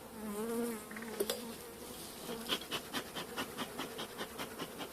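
Caucasian and Carniolan honeybees buzz close by, a steady droning swarm with individual bees whining past in quick passes.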